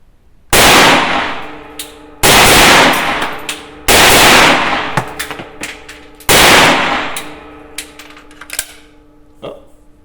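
A Soviet PPS-43 submachine gun fires at a gas cylinder in four loud, long bursts of rapid automatic fire, each trailing off into clattering echoes and metallic clangs.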